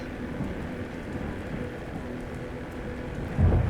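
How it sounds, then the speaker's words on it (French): Storm in the survival game 7 Days to Die on the Wasteland map, a dense steady hiss of rain with a low thunder rumble swelling near the end, no voices. "il y a une tempête sur le Vastland, je ne vois rien"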